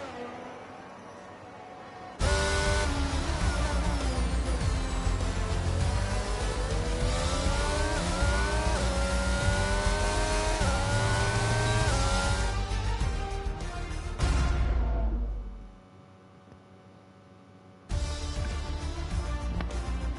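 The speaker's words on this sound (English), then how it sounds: "So as we wait then for Hayden, his car to go into the pits" A race car engine in a racing video game at a Portugal circuit, heading into the pits: a loud, sustained whine with repeated rising and falling revs that cuts out for a few seconds near the end and then returns.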